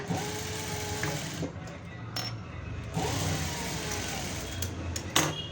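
A sewing machine stitches two saree fabric pieces together for a blouse, running in close continuous bursts with brief pauses and small clinks between runs.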